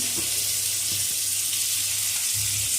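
Chopped onion, grated carrot and vegetables fry steadily in a pan for a momo filling, giving a continuous close sizzle with a few faint clinks of stirring.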